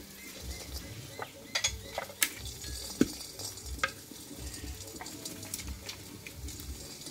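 Suji (semolina) tiffin snacks fry in a little oil, with a soft, steady sizzle broken by several sharp clinks and scrapes of a utensil against the pan, close by and fairly quiet.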